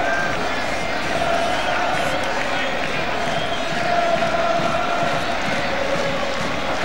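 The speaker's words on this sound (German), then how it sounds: "Und die südamerikanischen Fans begeistert." South American football fans roar steadily throughout a stadium crowd at an Argentina versus Germany friendly, a dense, continuous wall of cheering and chanting with no pauses, heard from a distance.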